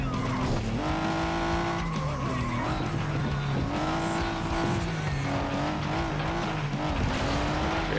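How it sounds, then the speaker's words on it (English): A struggling car engine in the racing game FlatOut: Ultimate Carnage drones loudly and continuously, its pitch rising and dipping as it revs, with tires skidding and squealing over it. "You can hear my poor engine is starting to struggle."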